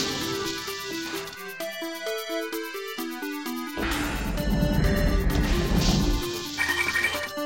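Security cameras being smashed in a video game, heard as dense electronic crashes and clattering impacts over layered synthetic tones and game music, loud throughout.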